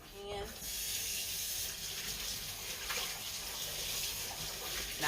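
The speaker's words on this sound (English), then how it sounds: "Now, let me wash my hands." Tap water runs steadily into a sink as hands are washed beneath it, a continuous splashing rush, briefly broken at the start, with some faint background voice.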